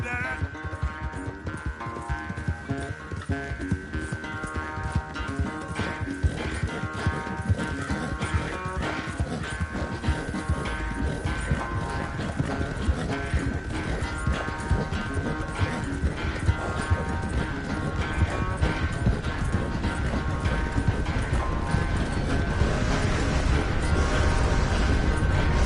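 Horse hooves clip-clop in a steady rapid rhythm through Red Dead Redemption 2 gameplay, loud and continuous under music and occasional voices.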